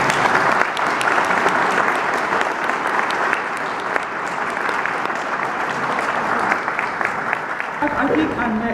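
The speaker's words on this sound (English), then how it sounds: "So clap your hands or sing a song." Sustained, loud applause from a crowd at Barry Miller's retirement ceremony at Collier Hills, continuous throughout with some voices mixed in near the end.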